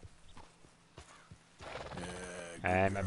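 Hollow hoof clops tap out a few beats in the video game Red Dead Redemption 2, followed by a horse's snort and whinny, with a voice speaking briefly in French over the animal sounds.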